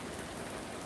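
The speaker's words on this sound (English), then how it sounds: "This rain's getting a little loud." Steady rain falls outside, a dense, even hiss of drops on surfaces with no pauses, fairly faint and continuous.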